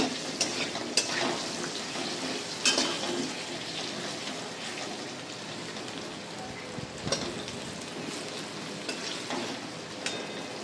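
Ginger spice paste fries in a pan with a steady crackling sizzle, broken by a few louder spikes as it is stirred; no talking over it.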